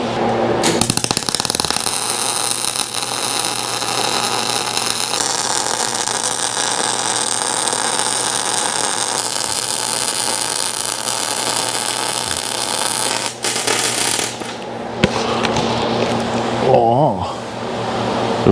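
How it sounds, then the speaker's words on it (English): Welding on a hitch being fitted to a semi tractor in a shop gives a loud, continuous crackling buzz that runs almost unbroken and then stops briefly near the end. "we're gonna do the same on the other side, and just weld stuff right out."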